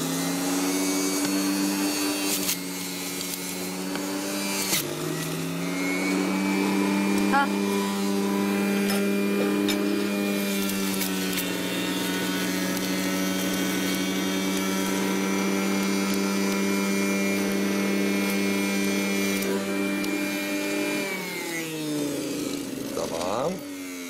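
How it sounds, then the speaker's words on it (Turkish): A countertop blender runs continuously for about twenty seconds, a steady loud motor whine with strong harmonics as it mixes a white wedding-dress drink, the pitch shifting slightly as the load changes before spinning down at the end. "Şimdi bunları hemen ben tekrar blender'a getireceğim."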